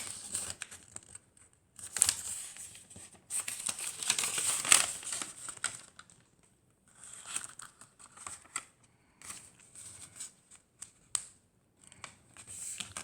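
A square six-inch sheet of origami paper is folded in half, giving crisp crinkles, soft rustles and sharp creasing snaps in intermittent bursts separated by short quiet pauses, close to the microphone.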